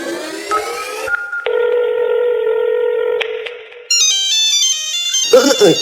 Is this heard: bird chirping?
no